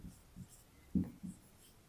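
Chalk or pen marks during a math lesson on polynomial graphs, a few soft, short scratchy strokes and taps, faint and close, spaced irregularly.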